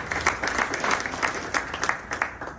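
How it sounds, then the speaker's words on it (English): Audience applause at a city's State of the City address, a brief moderate round of scattered hand clapping from a crowded room. "I'm glad to see somebody be clapping on that one."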